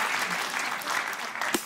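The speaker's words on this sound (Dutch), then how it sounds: "Ja hoor, er mag geklapt worden." Audience applause at a Sing-off singing contest in Peel en Maas, a steady wash of clapping from a crowd filling the clip, with a brief louder thump near the end.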